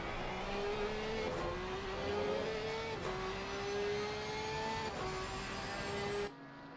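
A Porsche race car's engine drones and revs in a sim racing game, its pitch climbing through gears with repeated shift dips, loud and continuous, then cutting off abruptly near the end.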